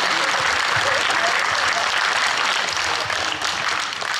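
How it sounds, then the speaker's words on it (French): Loud, dense applause fills a hall at a French town's afternoon gathering for elderly residents after a show, a sustained roar of many hands that eases slightly toward the end. "Je pense que vous pouvez tous applaudir la ville de Châtillon pour le spectacle qu'elle vient de vous offrir."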